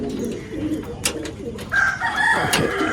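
Haifa pigeons coo in a loft, their soft rolling calls close and repeated over a busy background of wing flutters and rustling.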